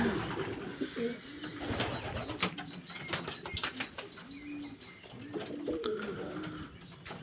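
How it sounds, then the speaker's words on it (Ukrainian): Young marbled homing pigeons coo softly and repeatedly close by, with occasional wing flutters and other bird sounds in the background. "Це буде голубочка. А це буде голубок."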